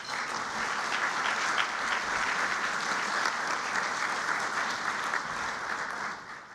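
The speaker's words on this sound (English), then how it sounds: "Can we please give them a round of applause?" A dinner crowd at an annual alumni event gives a steady round of applause, dense and sustained at an even level for several seconds without any speech.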